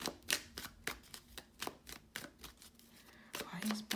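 A deck of cards is shuffled in quick riffling bursts, soft and close, a series of short crisp flutters followed by a brief pause and a faint hum.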